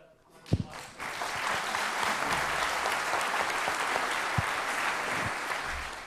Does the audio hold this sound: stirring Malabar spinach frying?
no